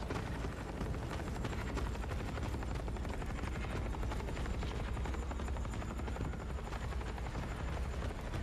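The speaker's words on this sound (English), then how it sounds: "Helicopter." A helicopter in the video game The Forever Winter thunders steadily overhead, its dense rotor roar loud and unbroken throughout, with no talking.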